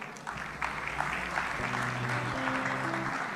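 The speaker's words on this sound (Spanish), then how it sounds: "Por favor, un fuerte aplauso para todos ellos." Audience applause for the panel speakers at an Ethereum conference, steady clapping from a crowd filling the room for a few seconds, with a faint low tone underneath.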